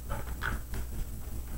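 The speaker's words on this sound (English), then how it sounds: "the dogs know when I'm doing this, so everybody surrounds me" Dogs gather around someone preparing homemade dog treats and give soft whimpers and faint yips over a low, steady background hum. The sound is fairly quiet and close, with no speech.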